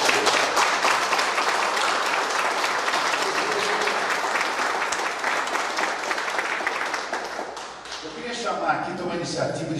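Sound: audience applause for Fernando

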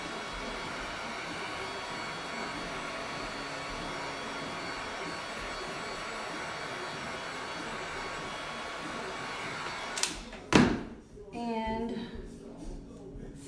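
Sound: heat gun heating a WooduBend moulding

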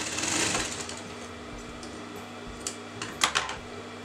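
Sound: sewing machine stitching canvas to frock fabric

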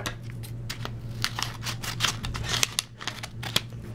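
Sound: scissors cutting open a mail envelope

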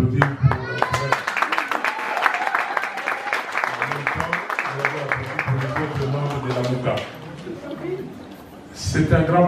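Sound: audience applause for the MLC France representative

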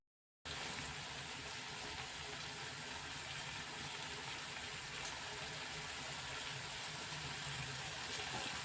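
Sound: water being poured in while making Nepali chutney

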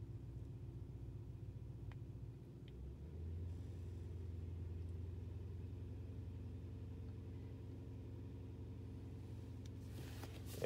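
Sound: 2005 Toyota Tundra engine idling with throttle held slightly open

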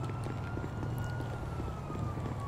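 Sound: police sirens in video game GTA V

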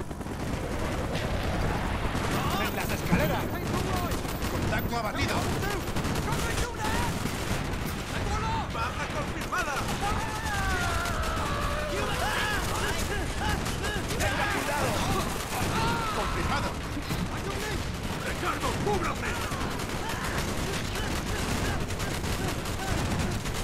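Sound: gunfire in a video game

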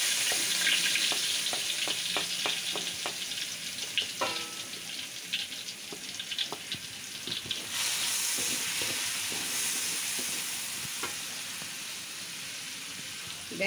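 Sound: garlic sizzling in frying oil

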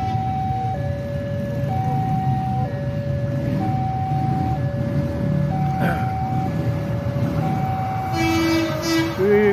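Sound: high-speed rail feeder train passing

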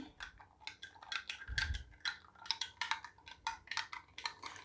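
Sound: stirring dough mixture in a bowl

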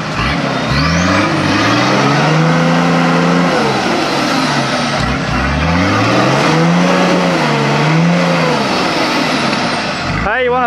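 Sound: vehicle engine revving, back wheel spinning in a hole

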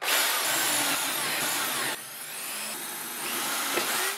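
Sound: power drill running

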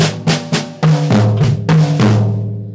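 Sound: drum six-stroke roll with bass drum, high and low tom

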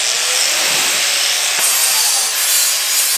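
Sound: angle grinder on roll cage tube

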